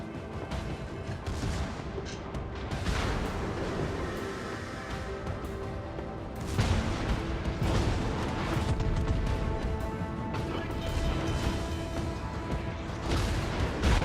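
Naval artillery fire in World of Warships, with heavy battleship turret salvos booming and rumbling through a dense, continuous battle din, and louder bursts arriving around the middle and near the end.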